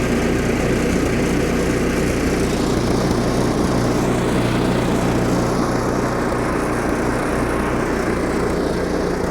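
A Craftsman Snowking snow blower's small engine runs steadily and loudly, a continuous close buzzing drone with no pauses and no voices.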